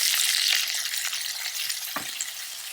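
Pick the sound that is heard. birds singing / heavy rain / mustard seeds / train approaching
mustard seeds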